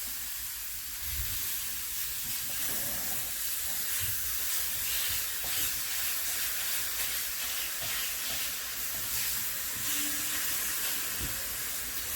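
A spoon stirs raspberries with about two tablespoons of sugar in a pan. Soft scraping and a light sizzle run over a steady hiss, with a few faint clicks and no talking.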